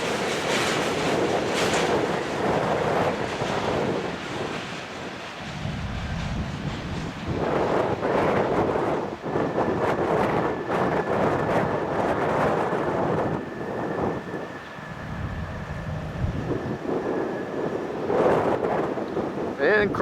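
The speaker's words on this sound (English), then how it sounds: "It's been windy around here." Strong wind gusts roar and buffet the microphone in waves, outdoors beside a railway in Cedar Falls, Iowa, with rumbling from a passing train mixed in.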